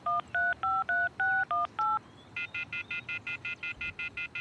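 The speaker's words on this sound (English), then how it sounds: "I took out my cell phone and dialed the first number from my contact list." A cell phone in the visual novel Everlasting Summer dials a number, giving a quick run of eight loud touch-tone beeps and then a steadier, evenly paced series of shorter tones, with no talking.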